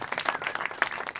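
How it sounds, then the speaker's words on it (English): Brief applause from a seminar audience honouring a shy team member, a short burst of overlapping claps with uneven hand strikes, fairly near and without talk. "a round of applause for Gaspard"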